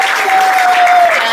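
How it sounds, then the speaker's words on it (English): Audience at a small New York bar applauding a live band, a short burst of dense clapping from a close crowd, steady and loud throughout. "Please, round of applause for them."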